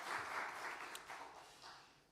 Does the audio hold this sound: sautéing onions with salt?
no